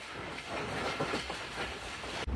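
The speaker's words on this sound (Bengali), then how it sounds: "ঢাকাগামী জয়দেবপুর 4 কমিউটার ট্রেনটি এখন বনানী রেলওয়ে স্টেশন প্রবেশ করছে" A Joydebpur 4 commuter train bound for Dhaka rolls into Banani railway station, a loud steady rumble of wheels and carriages with faint clatter, filling the whole moment without any voices.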